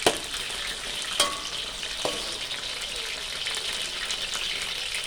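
Steady sizzling and bubbling of chicken pieces deep frying in hot oil, with a couple of faint clinks near the start.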